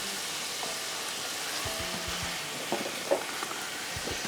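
Whole spices, cumin, coriander, fennel, black pepper and chillies roast in a pan for yakhni chicken pulao, giving a steady low hiss of frying with a few soft scrapes and taps of stirring, fairly quiet and alone.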